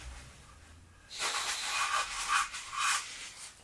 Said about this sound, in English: We clean our sump bolt.